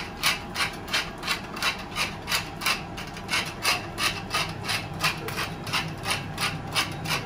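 A pepper mill grinds over the surface of a marinated Alsatian baeckeoffe. It makes a steady rhythmic rasping, about two twists per second, loud and close with no talking.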